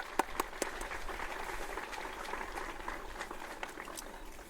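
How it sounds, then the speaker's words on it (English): An audience at a graduation ceremony claps together, a dense, even patter of many hands that carries on steadily at moderate loudness. "Let's give them a round of applause for participating"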